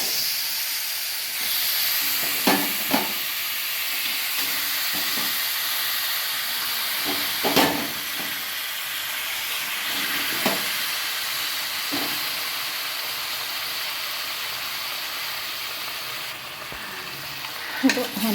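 Chicken pieces frying in oil with softened onions and masala, a continuous close hissing sizzle with occasional sharp spatula scrapes and clacks against the pan, steady throughout, no talking.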